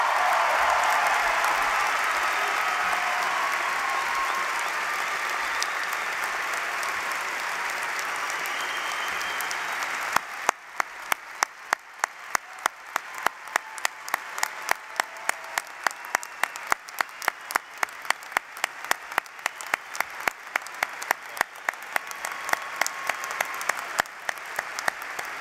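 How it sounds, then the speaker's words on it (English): Crowd applause at a Georgia Tech undergraduate commencement ceremony, a loud dense roar of clapping in a large venue for ten seconds, then giving way to rhythmic, evenly spaced unison claps that continue to the end. "give them a huge round of applause"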